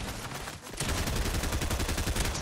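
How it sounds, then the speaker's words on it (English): Weapon fire in a Fortnite match rattles in a fast, loud, close string of repeated shots after a brief lull, with no talking over it. "just make sure you always carry a shotgun and then go after them"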